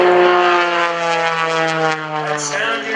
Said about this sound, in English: that's the tips of his three-bladed propeller going supersonic.